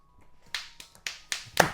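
A slow clap: five sharp hand claps at an even, unhurried pace, close and crisp in a quiet room, growing slightly louder toward the end.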